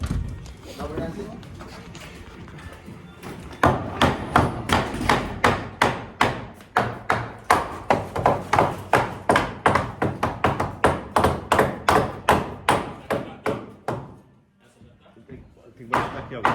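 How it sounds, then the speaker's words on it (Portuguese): A hammer knocks a fireplace cover into place indoors with a fast, steady series of close, solid thuds after a stretch of speech, while voices talk over the blows. "aí vai batendo nele"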